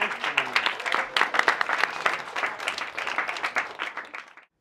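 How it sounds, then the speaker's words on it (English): An audience at an education design workshop applauds a presenting team, with a crowd of separate claps ringing out fairly close, the applause thinning and tapering off toward the end. "Let's keep the applause going for Team 20."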